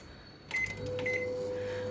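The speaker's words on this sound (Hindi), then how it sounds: "इसे मैं रखती हूँ इन द माइक्रोवेव ऐसे ही फॉर जस्ट 30 to 40 seconds." A microwave oven runs while heating frozen coconut: a soft click and a couple of brief beeps, then a steady low electrical hum continuing close by.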